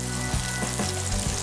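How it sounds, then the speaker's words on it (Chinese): Chopped ginger and garlic crackle in hot oil in a wok, a steady, close sizzle broken by a few scraping strokes of a spatula, with no voices. "油热下姜蒜爆香"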